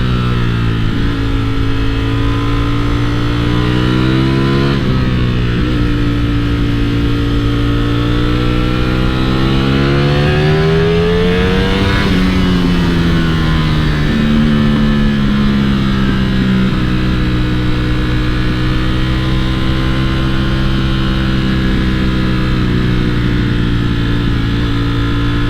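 A Ducati Streetfighter V4 S motorcycle revs hard and accelerates, its loud engine note rising and falling steadily through the rev range with a prominent, continuous roar and shifting pitch sweeps.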